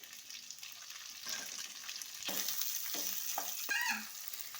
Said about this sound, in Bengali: এবারে দিয়ে দেব আদা কুচি, রসুন কুচি, এবারে একটু ভেজে নেব।